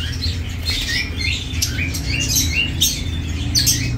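Caged lovebirds at a Baghdad bird market chirp and squawk in quick, bright bursts over a steady low crowd and street rumble.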